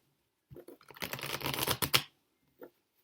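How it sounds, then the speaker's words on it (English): Tarot cards are shuffled close by in one quiet burst of rapid riffling flutter lasting about a second and a half, followed by a single soft tap as the deck settles. "Let me just shuffle again."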